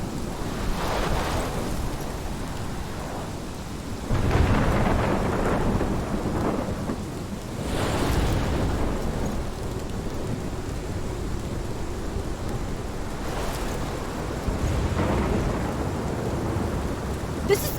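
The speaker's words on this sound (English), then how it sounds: "This is my storm." A heavy thunderstorm rages in the Life is Strange video game, with steady pouring rain and several loud rolls of thunder swelling and fading across the scene.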